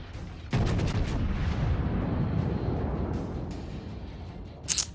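A heavy naval gun salvo from the American battleship North Carolina in World of Warships erupts as a sudden loud boom, then rumbles and slowly fades, ending with a short sharp pop.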